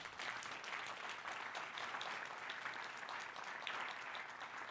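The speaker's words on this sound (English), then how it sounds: "let's give Greg another round of applause." Audience applause, a sustained wash of many hands clapping at moderate distance, steady for several seconds.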